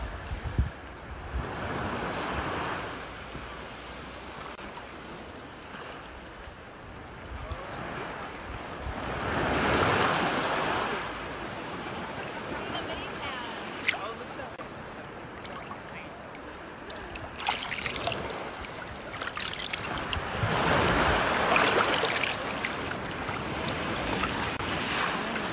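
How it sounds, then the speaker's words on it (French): Surf on a Hawaiian shore: waves roll in and break in slow, repeating surges about every ten seconds, with steady wind rush and a close, full wash of water between the crests. "vous offre 15 secondes du bruit de la mer à Hawaï"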